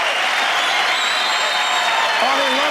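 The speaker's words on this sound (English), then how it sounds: "and the crowd loves it." TV studio crowd at a 1989 American Gladiators competition cheering and applauding, a loud sustained roar of clapping and shouting with a commentator's voice riding over it.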